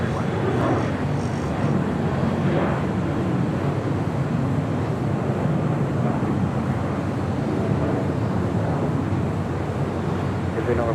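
A jet airliner takes off from runway 25 right at Los Angeles International Airport, its engines giving a steady, loud broadband roar that holds throughout, mixed with wind buffeting on the microphone.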